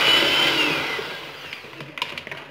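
Electric mixer whirring through cake batter with three spoons of cocoa for a chocolate cake, a steady loud motor hum that slows and fades, followed by a few light clattering knocks.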